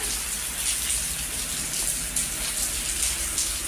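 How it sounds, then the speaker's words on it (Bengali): Rain pours down steadily outside a village house, a constant close hiss of drops hitting surfaces, with scattered louder splats and no one speaking. "আবার বৃষ্টি হইতেছে তাই না আম্মা?"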